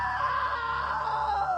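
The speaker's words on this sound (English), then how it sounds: "that was a great scream" A sustained, wavering scream in the video game What Remains of Edith Finch, loud and drawn-out like a groan, set over a low steady hum and lasting the whole moment.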